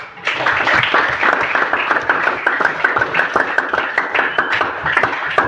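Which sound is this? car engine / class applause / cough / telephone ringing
class applause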